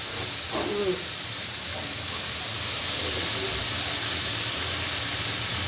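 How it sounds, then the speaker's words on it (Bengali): Onion stalks fry in a pan with a steady, loud hiss and sizzle that runs unbroken throughout, with a faint voice briefly audible near the start. "ও এটা হচ্ছে পেঁয়াজ কলি ভাজা হচ্ছে পেঁয়াজ কলি ভাজা"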